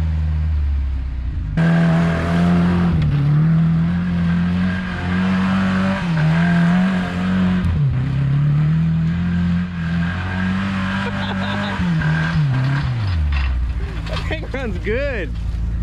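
A 1981 Ford Courier work truck's engine runs loud and close, holding a steady drone that surges and dips as it accelerates, with a brief drop near the middle and rising, wavering revs toward the end.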